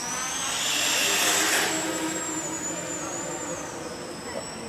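An RC model aircraft in flight, a steady high motor whine that swells and drifts in pitch as the plane passes, fairly close, over a constant broadband rush of wind and outdoor noise.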